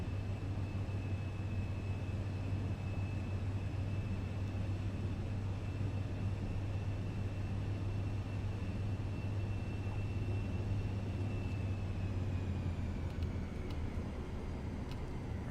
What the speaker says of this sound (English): We're gonna do a performance takeoff here.